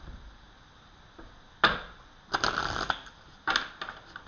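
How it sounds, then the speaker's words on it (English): Tarot cards being shuffled by hand, several short crisp riffling bursts separated by quiet pauses, close and fairly soft. "these cards are still shuffling nicely"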